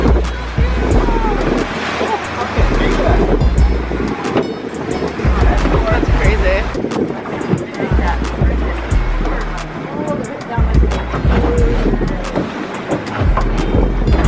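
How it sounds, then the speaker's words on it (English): Water taxi crossing open ocean near Puerto Vallarta, with a steady loud engine drone, hull slapping on waves and wind rush throughout, and voices talking faintly beneath the noise. "And now we are taking a water taxi back to the mainland."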